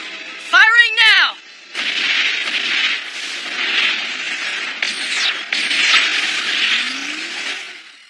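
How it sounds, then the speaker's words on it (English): An anime energy beam weapon fires after a charging whine: a sustained, loud, hissing rush with warbling swells that runs steadily for several seconds, preceded by a brief tonal sweep. "Firing now!"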